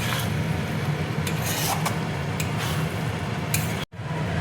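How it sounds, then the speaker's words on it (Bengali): Mutton with ground spices is stir-fried in a pan. The spoon makes close, continuous scraping and rubbing over a soft sizzle, with a brief dropout near the end and no talking. "এবার দেখো মটনটা আমি খুব ভালো করে কষিয়ে নেব।"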